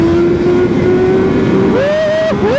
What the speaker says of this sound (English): That was a little power wheelie not at balance point, nothing crazy